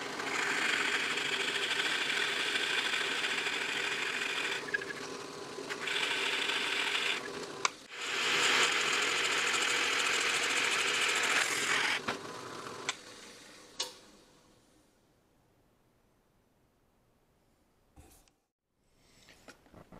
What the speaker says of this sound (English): I'll put a 25 millimeter clearance hole to a depth of about maybe half the bit